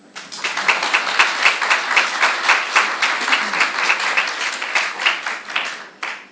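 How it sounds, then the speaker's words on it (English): Warm, even applause from a conference audience at the ITAPA 2023 convention, honoring a 27-year IAP membership; many hands clapping steadily, swelling in quickly and holding before tapering off at the end. "Applause, please."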